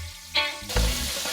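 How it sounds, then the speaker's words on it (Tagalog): Sliced pork belly and lemongrass hit a hot pan and sizzle loudly, with a sharp clink and a thump of the spoon stirring partway through, then a steady close-up frying hiss. "Isama sa gisa ang ginayat ng liempo at tanglad."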